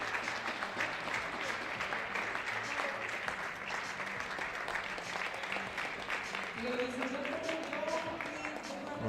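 A crowd applauds steadily at a women's air pistol European championship final, dense clapping that carries on throughout while a commentator talks over it.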